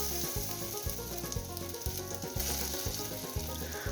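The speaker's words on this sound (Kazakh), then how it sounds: "Мінекей аударып, екінші бетінде қызартырып пісіріп аламын." Pirozhki sizzle and crackle loudly in hot oil as the second side browns, a dense, continuous frying hiss with constant spitting, close up and alone.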